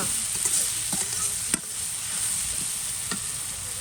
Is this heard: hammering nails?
no